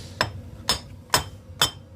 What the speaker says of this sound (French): Un petit coup de marteau et ça s'enlève.